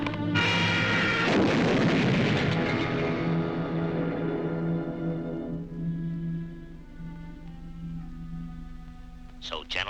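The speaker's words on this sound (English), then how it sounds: "You may fire when ready, Von Gridley." Cartoon cannon fire in a wartime animated short, one loud booming blast at the start that rumbles and fades slowly over several seconds.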